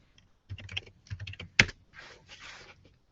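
A computer keyboard being typed on in bursts of quick key clicks with short pauses between them, one louder sharp clack in the middle, close and dry with no one talking.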